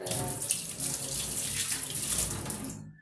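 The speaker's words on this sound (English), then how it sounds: "Let me wash my hands" A kitchen tap runs steadily as hands are washed during marinating beef for biryani, a close, continuous splashing stream that cuts off at the end.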